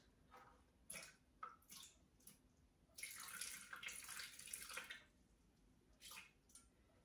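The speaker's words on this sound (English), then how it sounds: "I'm still going to add the 600 grams of water" Water is poured into a Thermomix TM6 or TM5 bowl in a few faint, splashy bursts, with the longest steady pour in the middle and short trickles and drips before and after.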